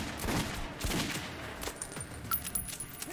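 Gunfire in the shooter game Metro 2033, Ranger Mode: several rapid bursts of shots crackle out in quick succession, then thinner scattered pops near the end.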